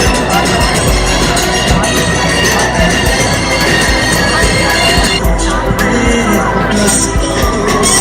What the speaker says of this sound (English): Parents are requested to please clap loudly.